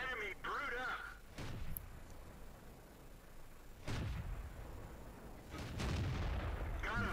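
Tank cannon shots in World of Tanks from a French tier 6 ARL V39 tank destroyer, a few sharp, booming game reports spaced several seconds apart over quiet background, with a player talking in between.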